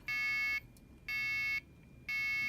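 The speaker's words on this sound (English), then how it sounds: "the buzzer is currently going off." A loud electronic home security alarm buzzer, triggered by motion, sounds in three evenly spaced bursts, each about half a second long, with quiet pauses between them.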